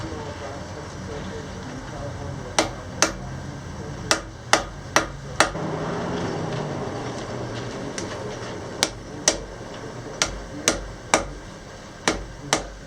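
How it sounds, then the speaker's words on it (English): Hammer blows on two pieces of hot steel being forge-welded into Damascus, sharp ringing metallic strikes in irregular clusters over a steady roar from the forge, fairly close. "then I could hammer the two pieces together"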